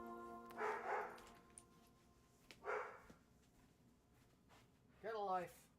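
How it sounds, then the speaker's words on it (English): Dogs barking indoors at a distance, three separate brief bursts spaced a couple of seconds apart, faint and muffled over low room noise. "My dogs are barking."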